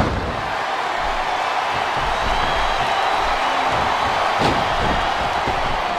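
Dense, continuous roar of a capacity arena crowd at a wrestling match in WWE SmackDown vs Raw 2007, steady and loud throughout, with a brief thud near the end.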